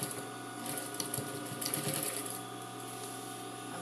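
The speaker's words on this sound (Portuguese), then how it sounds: "Vai para a máquina de novo." Sewing machine stitching fabric for a small zippered pouch, a faint, steady mechanical whir with a rapid stitching patter that eases off toward the end.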